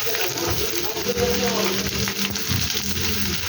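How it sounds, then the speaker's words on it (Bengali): Potatoes and onion frying in a pan, a steady close sizzle that runs through the whole stretch with low bubbling underneath and faint stirring. "পেঁয়াজটা একটু লালচে লালচে করে ভেজে ফিরছি আপনাদের কাছে।"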